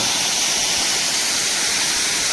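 A forest waterfall near the Odisha border roars in a constant, loud broadband rush with no pauses, steady throughout.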